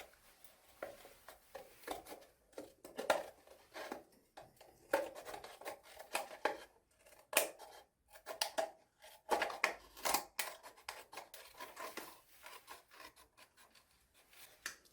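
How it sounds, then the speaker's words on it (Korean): Scissors cut through a sock along a marked line to upcycle it into a cup holder, giving close, irregular bursts of snipping and rustling fabric with quiet pauses between cuts. "칼로 다 자를 수도 있지만 위험하니까 가위로 집어넣어서"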